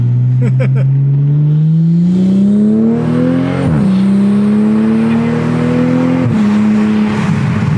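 A Toyota Supra engine with an HKS carbon intake revs and climbs steadily in pitch, a deep throaty drone with a couple of brief dips as it shifts, loud and close throughout.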